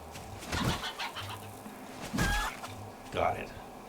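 Chickens cluck in short bursts in the survival video game 7 Days to Die, heard at moderate level with a few separate calls spaced across the moment.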